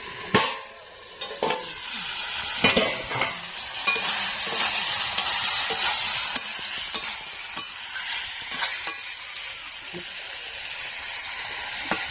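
Pumpkin and potato fry in a pan with a soft continuous sizzle, broken by frequent sharp clicks and scrapes of a spoon stirring against the metal, fairly quiet and close.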